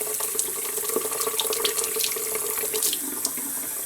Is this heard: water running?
yes